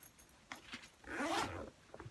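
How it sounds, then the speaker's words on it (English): A bag zipper is pulled closed in one short rasping stroke, close and fairly quiet, after a few soft handling taps. "Zip that."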